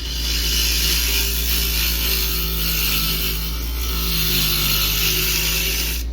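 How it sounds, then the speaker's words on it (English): A carbide lathe tool cuts a beech wood bowl, giving a loud, steady whirring scrape over a low motor hum that holds throughout without a break and with no talking. "See how she cuts with the carbide deal."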